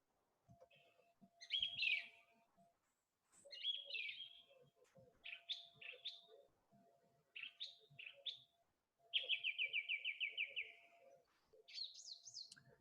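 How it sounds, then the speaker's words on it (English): A song thrush sings in a dawn chorus, phrases repeated in short runs with pauses between, clear but fairly distant against quiet background birdsong. "So the song thrush, if we listen to their song, it's a big giveaway."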